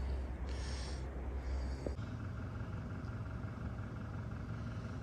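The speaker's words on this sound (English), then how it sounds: "I'm spinning the truck currently on gravel." A truck spins its wheels on gravel at a boat yard during haul out, producing a continuous low engine rumble with rough grinding texture that stays steady and fairly near throughout, with no talking.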